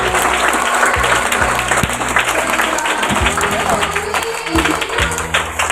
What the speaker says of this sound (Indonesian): Tepuk tangan untuk siswa-siswi dan keluarga besar MI dan MTS Terpadu Berkah